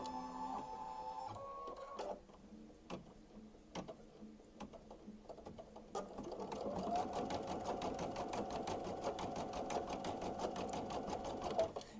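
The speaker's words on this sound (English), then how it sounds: "So we are going to go ahead and lower the embroidery foot, and I'm going to start." An embroidery machine stitches a design onto a sweatshirt, starting with a few isolated mechanical clicks and thumps, then settling into a fast, steady rattling stitch rhythm that continues to the end, close and moderately loud.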